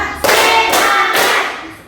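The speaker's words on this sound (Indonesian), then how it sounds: "tepuk semangat, tepuk 1, tepuk 2, dan tepuk 3." Rhythmic group hand clapping in a counting clap game, a burst of several fast claps followed by sustained loud clapping bursts at roughly half-second intervals, close and dense with no talk.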